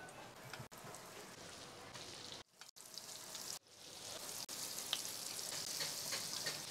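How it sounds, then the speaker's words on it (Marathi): Marinated prawns are dropped into hot oil on a heated tava. Faint clatter and a couple of brief gaps lead into a growing, steady sizzle that stays fairly quiet and close. "कोलंबी मिक्स करून ठेवलेली आपण तेलात सोडून देऊया."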